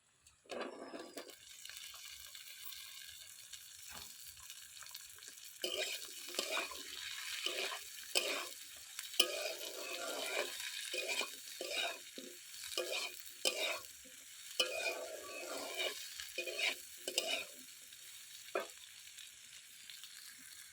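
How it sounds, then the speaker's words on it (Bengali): Quiet, steady sizzling of eggplant and flat beans frying in oil, with soft, repeated scrapes of a spatula stirring the pan. "সিম আর বেগুনটা তেলের উপর হালকা করে নেড়ে নিয়েছি"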